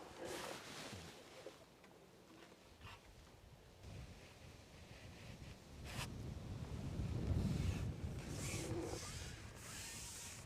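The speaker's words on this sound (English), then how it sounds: "Really windy today." Gusty wind at an outdoor fishing venue buffets and rumbles close to the microphone, swelling louder toward the middle and staying steady and roaring, with no voices.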